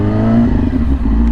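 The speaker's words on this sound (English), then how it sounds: "let's give it a few little blips right here" A Yamaha R6 sport motorcycle engine held in a steady, loud idle-to-low rev right up close, with a brief throttle dip and rattly mechanical clatter.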